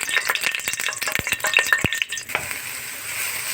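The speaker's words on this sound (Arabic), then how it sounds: "احنا بنقطع البصل زي كده وبنحطه في الزيت" Sliced onions for koshari hitting hot oil in a pot, a loud crackling sizzle with sharp clinks and rattles of stirring early on, then settling into a softer steady fry.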